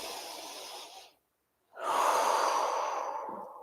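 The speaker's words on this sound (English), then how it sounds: "Breathe into the nose, breathe in, out the mouth." Slow breathing during a fascia-focused movement class: a long inhale through the nose, a brief pause, then a fuller, louder exhale out through the mouth, close to the microphone and heard alone.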